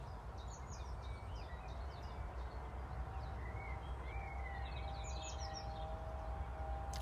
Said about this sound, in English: Listening to the sound of the birds.